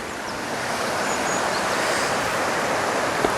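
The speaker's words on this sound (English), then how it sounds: "Look at that flow of the water." Sandoa Waterfall in Bhimber, Azad Kashmir, pours with a loud, steady, close rushing roar that holds unbroken throughout.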